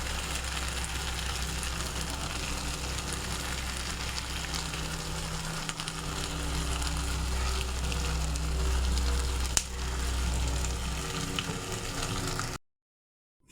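Pangas fish fries in mustard oil in a pan, a steady, loud, continuous sizzle with no talk that runs unbroken and then cuts to silence near the end.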